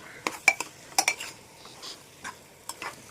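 Chickpeas being stirred and fried in a pan for chana masala: scattered clinks and scrapes of a spatula against the pan, quiet and irregular, over a soft background.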